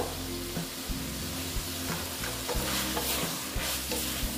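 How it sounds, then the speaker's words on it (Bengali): Soybeans and chana dal stirred in a frying pan, a steady close sizzle broken by repeated scraping strokes of the spoon at a regular rhythm, with no voices. "একটু আবার একটু নেড়ে চেড়ে নিচ্ছি।"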